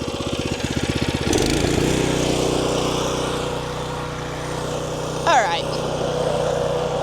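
A new rear-tine tiller's small engine starts up with a rapid chugging pulse, then settles into a loud, steady running drone nearby, and a person speaks briefly over it.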